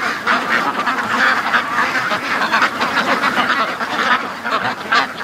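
Dense, continuous quacking and peeping from a flock of free-range ducklings in a barn, loud and close, with many overlapping calls and no talking.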